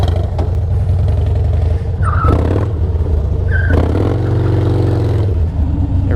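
A Harley-Davidson motorcycle being drifted roars loudly and close, its engine rumbling and revving with surging swells and a couple of brief squealing bursts.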